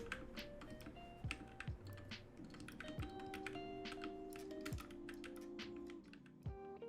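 Typing on a Royal Kludge RK61 60% mechanical keyboard: quick, uneven clicky keystrokes tap continuously under quiet background music with sustained tones, fairly close and moderately soft.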